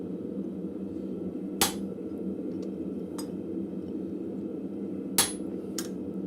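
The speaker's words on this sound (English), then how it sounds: "Give it a tap with the hammer just so I can see where that mark is." A hammer gives a few light taps to hot metal at a blacksmith's forge: four sharp, separate strikes spaced over several seconds against a steady low shop hum.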